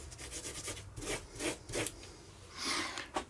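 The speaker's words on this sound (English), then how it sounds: "I'm going to just clean this brass nut up" Brass nut on a Case 580C backhoe starter being cleaned by hand, soft irregular rubbing and scraping strokes, close and fairly quiet, with no talk.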